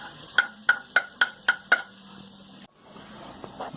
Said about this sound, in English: First add and Fry the onion